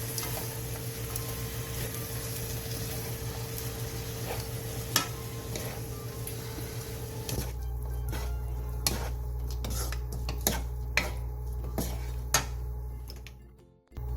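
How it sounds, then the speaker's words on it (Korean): Bean sprouts and chili powder stir-fried in a pan over medium heat give a steady close sizzle, which later drops to a lower hiss broken by scattered light clicks and scrapes of stirring. "콩나물 2줌과 고춧가루 1스푼 반을 넣고 밑이 타지 않게 뒤적여가며 중불에서 약 3분 정도 볶아주세요"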